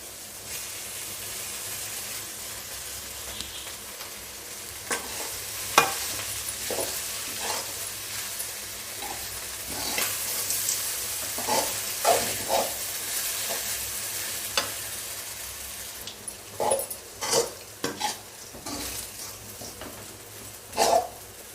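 Cooked barnyard millet vermicelli stirred into sautéed vegetables in a hot pan, a steady soft sizzle broken by repeated scraping and tossing strokes from a spatula, close up and without talk.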